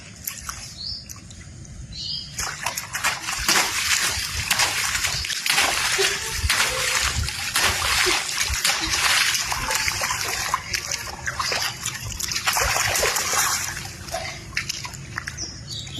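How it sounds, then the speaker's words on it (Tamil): Water splashes and sloshes as a girl somersaults into a rainwater flood, with repeated loud bursts of splashing and splatter, brief quieter moments between, and faint bird chirps in the background. "மழை தண்ணி தேங்கி நிற்கிற இடத்துல சம்மர் சால்ட் அடித்து ஸ்டன் பண்ணிகிட்டு இருக்கா"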